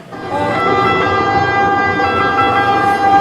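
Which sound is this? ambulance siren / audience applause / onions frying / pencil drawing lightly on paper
ambulance siren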